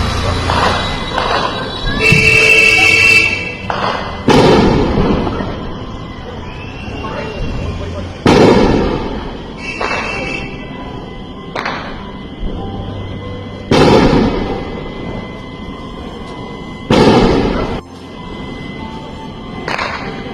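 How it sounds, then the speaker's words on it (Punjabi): Bombs or missiles exploding in Punjab, filmed live: several loud, sharp blasts spaced a few seconds apart over a low background, with voices heard between them. "ਲਾਈਵ ਤਿਬੜੀ ਛੋਣੀ ਵਿੱਚ ਬੰਬ ਡਿੱਗਦੇ ਹੋਏ"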